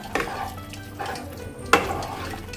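Chilli chicken and gravy being stirred in a pan, with a few sharp scrapes and clinks of a utensil against the metal over a quiet sizzle, the loudest strokes coming close together near the start and end.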